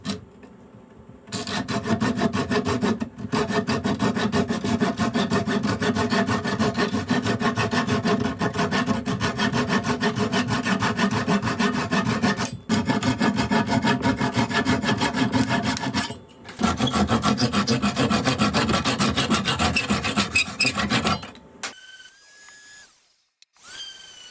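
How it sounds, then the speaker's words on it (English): Steady, loud rasping of sanding on wood for a grill utensils box, long continuous strokes broken by a few short pauses, ending with quieter handling noises. "sand it"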